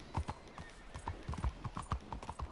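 Hooves of a horse in Red Dead Redemption 2 clop in a steady trotting rhythm, close and fairly loud, with no talk over them.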